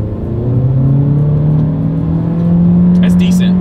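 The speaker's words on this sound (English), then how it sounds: "let's go ahead and test out that acceleration, and let's see how quickly we can get this one here up to speed" A 2024 Acura Integra pulls away hard in sport mode, its engine note droning and rising steadily in pitch as it gains speed, heard loud from inside the cabin with a voice talking over it.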